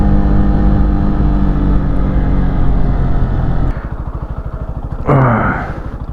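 A motorcycle engine hums steadily while riding, shifting to a sharper, pulsing rev partway through, with a brief burst of wind or revving near the end.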